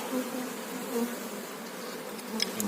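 Honeybees buzzing at a hive during a check of a colony on five or six frames before winter, a faint steady close hum with wingbeat whines drifting past and no talk.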